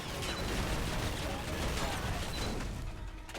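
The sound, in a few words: explosions and gunfire in video game Escape From Butcher Bay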